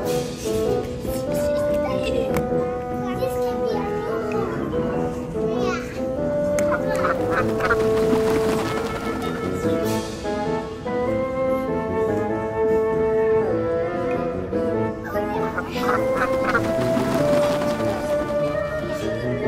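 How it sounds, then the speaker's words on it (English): Ducks honking and quacking as they fly past, loud and nearly continuous throughout, with a voice in the background. "The ducks are flying by the trees."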